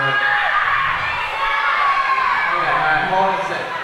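Dense crowd at a live wrestling show shouting and cheering continuously, loud and close, with high children's voices mixed into the roar.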